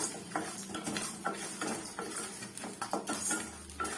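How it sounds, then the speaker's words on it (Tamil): Salt roasted in a pan for idli podi, heard as light scraping and clinking of a utensil against the pan in short irregular strokes, close and fairly soft, with no speech. "உப்பு இது போல நம்ம வறுத்து எடுத்துக்கிறோம்"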